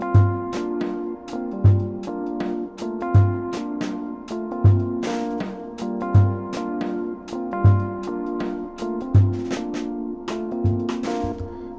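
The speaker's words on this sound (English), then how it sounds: "it's playing a simple drum groove, and it sounds like this." A steady sampled drum groove from Native Instruments Battery loops at a moderate tempo, with punchy kicks, crisp snare hits and ticking hi-hats repeating throughout.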